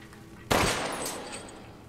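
A single sharp pistol shot from the video game Resident Evil Village cracks out suddenly after a quiet moment, then rings off into a decaying tail, with no talk.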